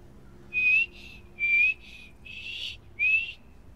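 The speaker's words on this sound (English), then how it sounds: "Whistle!" Four short whistle tones, repeated with small pauses between them, come from a character in the Skyrim video game. Each note is clear and fairly loud over a low hum of game ambience, and no one speaks.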